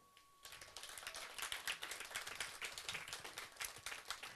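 Audience applause welcoming the head of the city of Gera onto a stage, sustained dense clapping that starts abruptly after a brief quiet moment and carries on loudly throughout.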